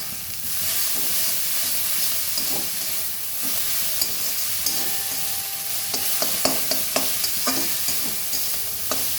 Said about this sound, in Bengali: শাকটা ভালো করে ভাজা ভাজা হবে